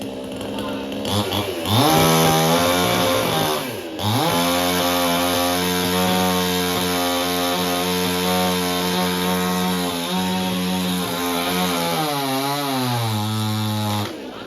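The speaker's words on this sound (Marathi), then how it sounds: "मशीन चालू आहे" A chainsaw-like machine runs continuously during cleaning of an old stepwell, its engine revving up and settling into a loud, steady drone with pitch shifts as it works.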